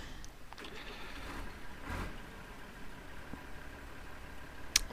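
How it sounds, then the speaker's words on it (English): Tractor engine in Farming Simulator 2013 running at a steady low drone as the machine moves, a continuous even rumble with a brief sharp click near the end. "where's my other tractor? I'm just going to move that quickly."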